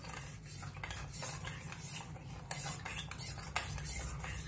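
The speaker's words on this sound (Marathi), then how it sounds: "आता हलवून घेऊया दूध" Milk with sugar being stirred in a pan, a spoon scraping and clinking against the metal in a quick repeated rhythm, close and without talk.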